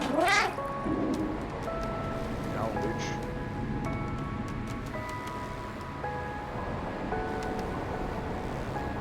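A cat meows in the video game Stray, a short rising call near the start over steady rain-like ambient noise and a game music bed that continues throughout.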